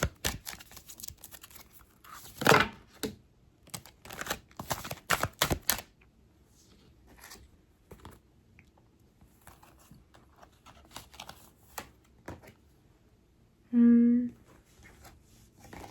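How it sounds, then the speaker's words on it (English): Quick papery riffles and clicking taps of tarot cards being shuffled come in short bursts, then quieter scattered flicks and a brief tone near the end. "I'm going to shuffle the cards around."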